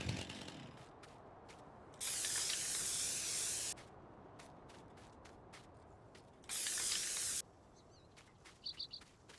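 A crop sprayer works a field in Farming Simulator 19, giving two long, steady bursts of loud hissing spray over a quiet engine drone, with small mechanical clicks in between.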